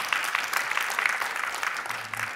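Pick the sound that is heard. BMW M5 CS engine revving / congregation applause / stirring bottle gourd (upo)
congregation applause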